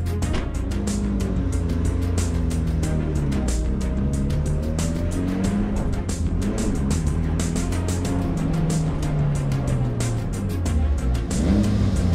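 A car engine runs steadily nearby, its pitch rising and falling as it revs and eases through a drive, with no talking.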